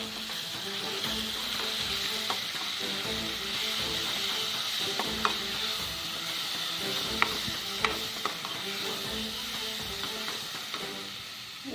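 Onion masala paste with chickpea flour and asafoetida stirred and frying in a pan, a steady close sizzle with repeated scraping and clinking of the spoon against metal, no voices.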